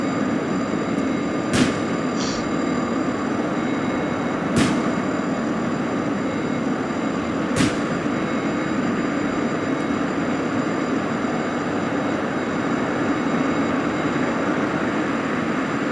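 SU-57 weapons firing in the flight simulator DCS, three sharp separate bursts spaced a few seconds apart over a steady low engine roar.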